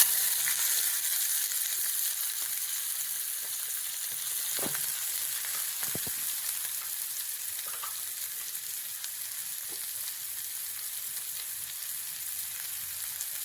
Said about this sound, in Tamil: இந்த ஓமம் பொரிஞ்ச உடனே இந்த கட் பண்ணி வச்சுருக்கிற 2 வெங்காயத்தை உள்ளே போட்டுக்கலாம்